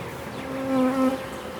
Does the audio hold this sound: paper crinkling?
no